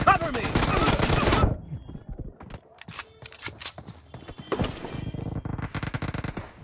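Gunshots in a team deathmatch shooter video game: a dense burst of fire opens, then scattered single shots and a renewed rattling stretch follow, with a voice speaking in between.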